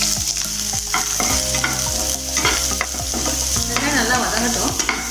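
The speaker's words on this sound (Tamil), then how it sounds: "வெங்காயம் நல்லா வதங்கட்டும்." Onions, green chilies and curry leaves frying with mustard seeds in oil in a pan, a steady close sizzle broken by repeated scraping strokes of a spoon stirring.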